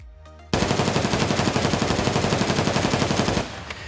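An MK47 rifle in Escape From Tarkov fires one loud, unbroken full-auto burst of about three seconds with no recoil control. A rapid, even rattle of shots starts abruptly and then cuts off into a short tail.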